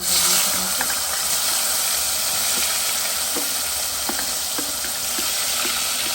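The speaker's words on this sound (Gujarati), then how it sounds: "આ ટામેટાને આપણે તળવા દઈશું" Tomatoes frying in hot oil for a Kathiyawadi baingan oro, a loud, continuous close sizzle and hiss with scattered pops and stirring sounds throughout.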